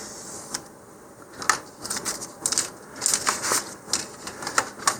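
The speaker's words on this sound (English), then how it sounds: "So now I can just take my hobby knife here and cut that." Hobby knife scoring along grid lines on material for an Estes Patriot Missile model rocket, giving a series of short, close, crisp scratching strokes in an uneven rhythm over a quiet background hiss.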